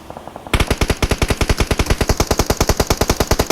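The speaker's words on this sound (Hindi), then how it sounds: "सुधांशु की फाइट हो रही है यहाँ पे।" Rapid automatic gunfire erupts during a fight in a battle royale video game, a loud, steady stream of evenly spaced shots running continuously after a brief quiet start.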